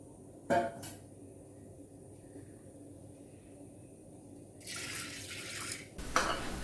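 Water runs and splashes into a pressure cooker holding washed red cowpeas for a couple of seconds near the end, after a quiet stretch with a brief clatter early on.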